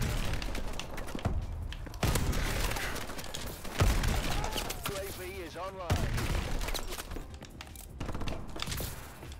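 Turret gunfire in Call of Duty: Advanced Warfare, rapid bursts of shots and heavy impacts in several loud waves, with electronic whirring effects and a voice talking at times.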